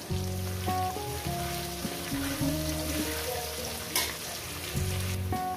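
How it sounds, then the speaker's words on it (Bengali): Pumpkin greens stalks fry in oil with turmeric, giving a steady close crackling sizzle. Loud stepped musical tones play over it. "দেখছেন আমি কি সুন্দর করে ভেজে নিয়েছি ডাঁটাটাকে"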